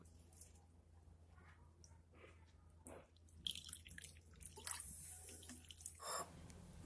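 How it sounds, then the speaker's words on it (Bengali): Flattened rice (chira) being rinsed with water, tap water splashing and trickling into a bowl with intermittent bursts of running water and drips, close and fairly quiet, with no talking. "এখন চিরাটিকে আমি জল দিয়ে ভালোভাবে ধুয়ে নেবো"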